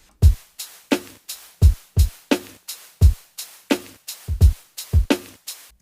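Drum machine hits with a Drift synthesizer noise shaker layered over them: a punchy, irregular pattern of kicks and snappy hits, each carrying a bright hiss tail, loud and close with no talking.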